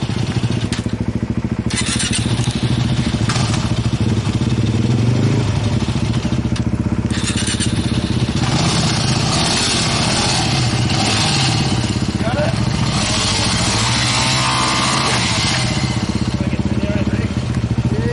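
An off-road motorcycle engine runs loud and close on a rough 4WD trail, rumbling and revving unevenly over a sustained drone, with people talking over it.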